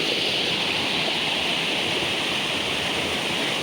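Water rushes steadily along a village irrigation channel in Sangulwadi in the Konkan, a constant broadband hiss of flowing water, close and even, with no voices.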